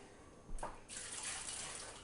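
A short pour of white vinegar into a canning pot for jars, heard as a brief soft splash followed by a gentle trickling of liquid, close and fairly quiet with no talking.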